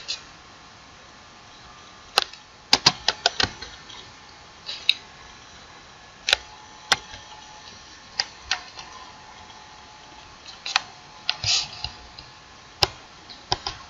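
Sparse keystrokes on a computer keyboard while JavaScript code is typed, heard as scattered sharp clicks, some single and some in quick bursts, over a quiet background.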